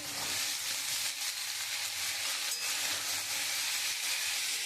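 Sliced onion and chopped snake gourd fry in a pan in oil, giving a close, loud, continuous sizzle with a steady hiss and no talk.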